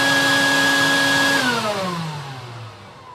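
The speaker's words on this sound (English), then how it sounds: "Now I'm going to switch to my router so I can just use the vacuum." A shop vacuum on a CNC router table roars steadily with a high motor whine, then spins down after about a second and a half, its pitch and loudness falling away.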